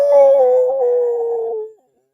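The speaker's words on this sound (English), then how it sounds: "Do you hear the dog in the background?" A single dog howls in the background, one long, mournful, tonal note that holds steady and then drops away as it fades out, with no voices over it.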